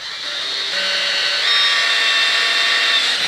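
A power drill bores a hole into the metal frame of a Wright 36i stander mower, a close, loud, steady high-pitched whine that rises slightly as the bit bites in.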